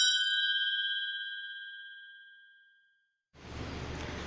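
A bright synthetic notification bell rings once and its tone decays slowly over about three seconds, followed by silence and then a burst of broadband background sound.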